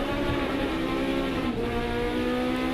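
Onboard sound of a hot hatch race car lapping Cadwell Park in a 750 Motor Club 2017 race, the engine droning loudly and steadily at high revs with a brief dip like a gear change midway.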